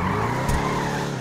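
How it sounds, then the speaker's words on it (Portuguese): A car drifts uphill in GTA, with a continuous, loud tire squeal over a steady engine drone and a brief bump midway. "eu tô fazendo drift na subida"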